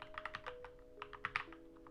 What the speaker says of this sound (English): Okay, no, I was not typing it correctly.